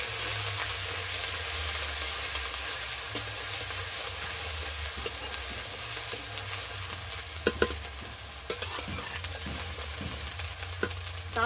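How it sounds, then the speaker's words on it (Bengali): Onion paste fries in a wok for egg curry, giving a loud, continuous sizzling hiss broken by occasional sharp clicks from a spatula, with no voices. "পেঁয়াজগুলোকে ভালো করে ভাজা ভাজা করে নিতে হবে।"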